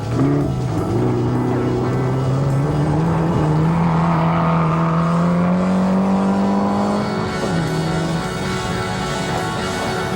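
An Evo 5 rally car races up a hillclimb, its engine holding a loud, steady note that climbs in pitch as it accelerates, then drops off near the end as it shifts or lifts.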